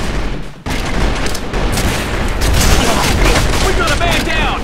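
Loud video game combat in Arctic Combat, with a grenade explosion and bursts of gunfire packed into a dense, continuous roar of battle noise.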